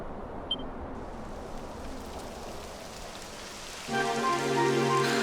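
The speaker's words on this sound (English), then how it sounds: "It would have to go and start raining, wouldn't it?" Steady rain in a video game patters continuously, with a brighter, louder layer of tonal background sound joining partway through.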